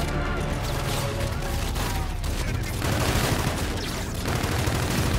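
Rapid automatic gunfire bursts from Call of Duty: Infinite Warfare multiplayer combat, dense and loud over continuous battle noise, with faint voices mixed in.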